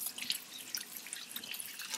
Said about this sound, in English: Strain away the salt water from the lotus roots and slightly wash it.